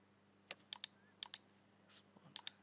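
Sharp, quiet clicks from a computer mouse and keyboard during 3D house design work in SketchUp, coming in small pairs and singles with short gaps in a calm room.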